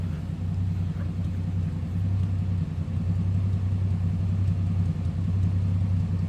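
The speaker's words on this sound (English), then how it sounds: "This thing just purrs. That slant 6 smooth running engine." A 1965 Plymouth Belvedere sedan's slant-six engine idles smoothly and steadily, a low even rumble with no revving, close by and continuous throughout.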